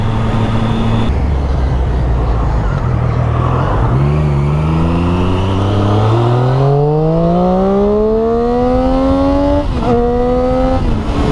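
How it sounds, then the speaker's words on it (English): Triumph Street Triple 675R naked motorcycle with a slip-on aero exhaust, its engine revving up steadily and climbing in pitch through the gears, loud and close with no talking. "Man, this bike sounds so good. It's got a slip-on aero exhaust."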